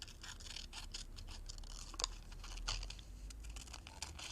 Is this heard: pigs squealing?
no